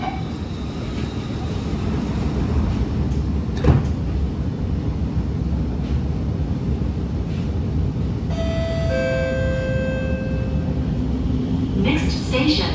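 SMRT R151 train standing at a Singapore station between Toa Payoh and Yio Chu Kang, its low carriage rumble steady throughout, with a brief thump, then a rising series of warning tones as the doors close and a short sliding sound at the end.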